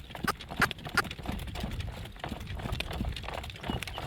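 Horse hooves clop on the ground close by, a loud, uneven series of thudding steps that starts strong and continues in a steady walking rhythm.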